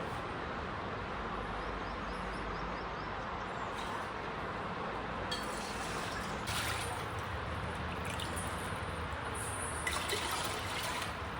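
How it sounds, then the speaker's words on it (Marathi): Steady trickling and pouring of water into a pressure cooker runs throughout, filling it at a constant level with no talking. "मी पंधरा ग्लास पाणी या कुकरमध्ये घालून घेते"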